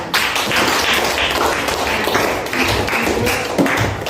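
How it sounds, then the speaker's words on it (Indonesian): A class of schoolchildren claps hands together, a loud, sustained burst of many overlapping claps lasting about four seconds with no talk. "Baik, kita tepuk tangan."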